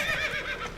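Roach, the horse from the video game Witcher 3, gives a short, close, wavering neigh lasting under a second.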